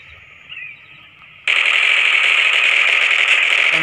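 Sustained automatic gunfire from the mobile shooter Critical Ops bursts in loudly after a quiet stretch of faint background sound, then rattles on continuously and evenly to the end.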